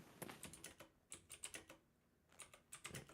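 Rapid clicking of keys on a computer keyboard, close and fairly quiet, in irregular bursts with a brief pause in the middle and no talking.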